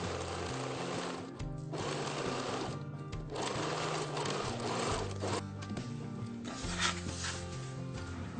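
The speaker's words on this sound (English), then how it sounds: "you just sew across it and then iron it down" A sewing machine stitches across the waistband of a waterproof, oil-proof apron. The motor whirs rhythmically in bursts, with short pauses and slight shifts in speed between runs.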